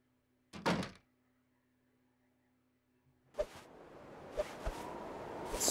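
A door in The Long Dark gives a single short thunk near the start, then after a quiet pause opens onto outdoor wind noise that swells, with a few knocks and bumps against it.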